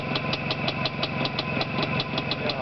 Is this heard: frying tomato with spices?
no